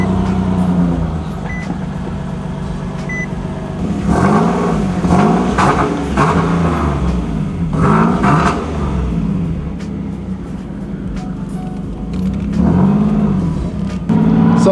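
A single-turbo Nissan 370Z being driven, its engine droning steadily from inside the cabin with several rises in pitch as it accelerates through the gears, loud and close, no talking.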